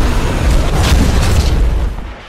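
A film explosion sealing the inter-dimensional portal in Pacific Rim, heard as a sustained deep, loud rumbling boom that holds steady for about two seconds before tapering off.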